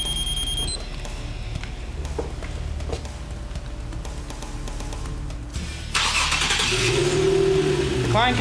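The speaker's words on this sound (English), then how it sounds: "This also starts the car remotely." A 2012 Infiniti G37x S starts remotely from a key fob: after a short electronic chirp, a steady low idle is heard, then a louder engine catch and rising rumble that holds near and steady to the end.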